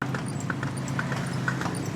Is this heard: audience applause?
no